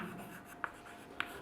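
Chalk or marker writing on a board during a chemistry lecture on adsorption, with two sharp tapping strokes about half a second apart over a soft, steady background.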